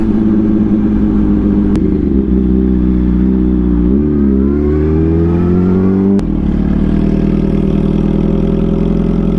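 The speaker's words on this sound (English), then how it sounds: "Traffic." A car engine idles close by, its pitch swelling and dropping as it revs, over a steady low rumble.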